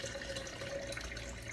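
Tap water pours steadily into a water pitcher with a soft, continuous hissing splash, heard alone and close by.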